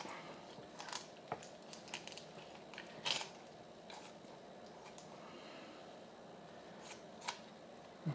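A knife cuts through the back of a raw chicken, making faint, sparse crunching snips and cracks of blade through bone and flesh, close but quiet against a low background hum.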